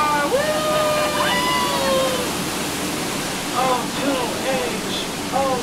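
Rushing waterfall on the Jungle Cruise ride at Magic Kingdom, a steady broadband roar lasting throughout, with a skipper's voice speaking over it.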